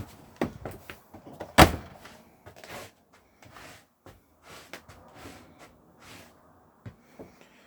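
A 2018 Sprite Super Quattro DB campervan door opened to step inside, a sharp loud latch clack early on followed by scattered softer knocks, shuffles and footsteps, no talking.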